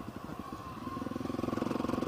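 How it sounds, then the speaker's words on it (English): A Honda CRF250L dual sport motorcycle is ridden with a close single-cylinder engine thrum that rises and quickens into a rapid, steady pulsing beat; no speech. "like the bike I'm riding today, this Honda CRF250L"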